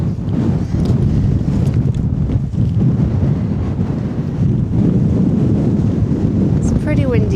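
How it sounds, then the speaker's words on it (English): Strong, continuous wind buffeting the microphone on the summit of Long Top near Crinkle Crags in the Lake District, a loud rumbling roar throughout with a brief higher sound at the very end. "It's pretty windy now up here, quite chilly."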